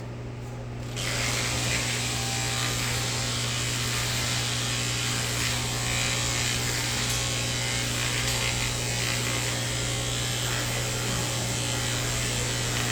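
Electric clippers buzz steadily while grooming a dog, a loud constant motor drone with a strong low hum that starts abruptly after a second and runs unbroken, with no talking.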